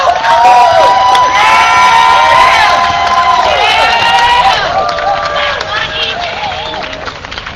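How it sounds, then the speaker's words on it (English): A large rally crowd cheers, whoops and applauds loudly and continuously, with high shouts and whistles riding over steady clapping that slowly tapers off. "let's give a thunderous round of applause for Regina Livingston"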